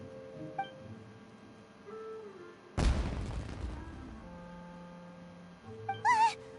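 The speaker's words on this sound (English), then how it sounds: "Was that an explosion? It sounded like fireworks." Fireworks go off in Genshin Impact: a single loud burst midway with a rumbling decay, set against soft game music tones and chimes, with no talking.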